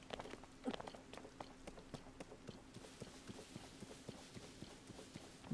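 Horse hooves clip-clop in a steady, fairly quick rhythm in The Legend of Zelda: Tears of the Kingdom, soft and close over a low steady game hum, with no one talking.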